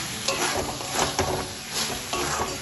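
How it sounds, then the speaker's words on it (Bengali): Sugar being stirred into an eggplant and drumstick flower curry in a pan, a close, dense scraping and sizzling with rhythmic strokes of the spoon, no talk. "এটা চিনিটা ভালোভাবে মিশিয়ে নেব।"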